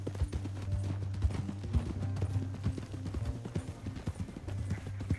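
Horse hooves clip-clop steadily through Red Dead Redemption 2, a rhythmic run of close, clear hoofbeats over a low steady drone, with no talking.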